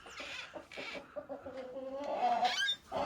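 Hens clucking in a backyard coop on a frigid winter day, soft and fairly near, with a run of short clucks building into a louder, drawn-out cackle.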